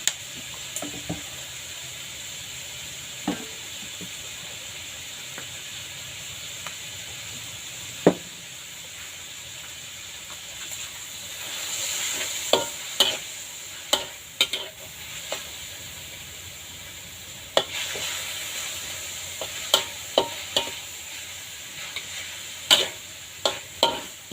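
Pork and napa cabbage stir-frying in a pan: a steady sizzling hiss throughout, with sharp clicks and scrapes of a utensil against the pan that grow more frequent toward the end, close up, with no voices.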